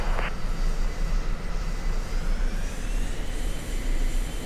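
F-15 jet engine taxiing in a flight video game, a steady broadband roar with a faint rising whine, continuous and fairly loud with no talk over it.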